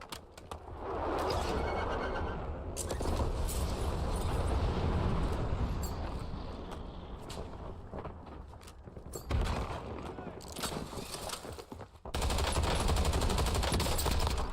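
Gunfire in the video game Warzone, with bursts of automatic rifle fire and sharp single sniper shots echoing across rooftops. Loud and dense for the whole stretch, with brief lulls between volleys and a player's voice talking over it.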